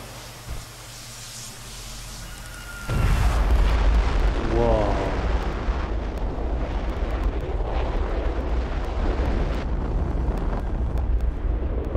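Test-fired rocket engine in the Fallout 4 VR game sets off a sudden, loud booming roar that starts after a quieter stretch and keeps rumbling with crackling blasts through the rest of the clip, with a voice briefly heard over it.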